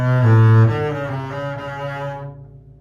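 A double bass from a Baroque sinfonia concertante, tuned a whole step higher for solo playing, sounds a few sustained bowed notes with rich harmonics, loud at first and then fading out, with no talking.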